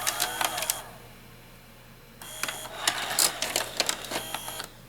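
A restored 1998 Zenith Allegro VCR ejecting a tape, heard as a close run of quick mechanical clicks and whirring clatter, a short burst, a pause, then more clicking and a louder clunk toward the end.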